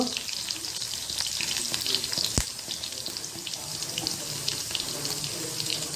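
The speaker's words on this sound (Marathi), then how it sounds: "आपलं तेल व्यवस्थित गरम झालेलं आहे त्याच्यामध्ये आपण टाकणार दोन बारीक कापलेलं लसूण थोडंसं हिंग" Chopped garlic and a pinch of asafoetida hit hot oil, giving a steady, loud hiss of frying that runs continuously throughout with a brief sharp crackle near the middle.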